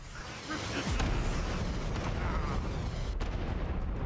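Missile blasts in the VR shooter Hot Dogs, Horseshoes & Hand Grenades rumble as a dense, continuous roar of booms with a sharp burst near one second, loud and close, while a voice talks over them.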